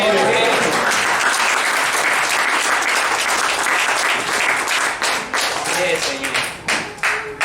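A church congregation applauds loudly and continuously, the clapping thinning into scattered claps toward the end.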